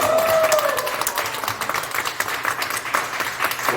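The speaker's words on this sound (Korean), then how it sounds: "박수 쳐주십시오. 자, 박수!" Audience clapping fills a room at a gathering of former teaching assistants. A steady, moderately loud patter runs throughout, with a faint brief tone near the start and no clear talk over it.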